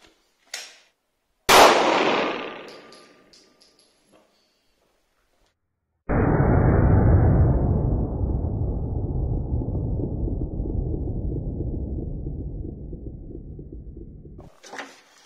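A single sharp pistol shot from a .45 round of Gold Hex ammunition fired into clay cracks loudly and rings out as it fades, followed after a pause by a long, steady broadband rumble.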